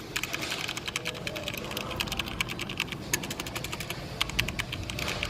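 Fast typing on a HyperX Alloy FPS RGB mechanical keyboard with Silver linear switches, a rapid close clatter of crisp key clicks in an even rhythm with no voices.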